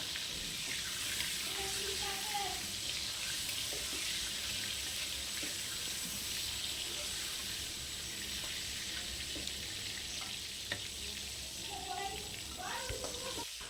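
Prawns frying in hot oil as they are turned over, a steady soft sizzle with occasional light scraping of a utensil in the pan, while a voice talks quietly over it.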